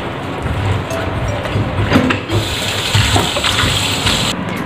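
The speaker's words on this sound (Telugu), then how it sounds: "అలాగే మొత్తం మిక్స్ చేసి వాటర్ పోసుకుని దీన్ని కడిగేసుకోండి" Water poured over raw prawns to wash them after mixing with turmeric, a steady gushing, splashing stream close up that runs without a break and is loud throughout.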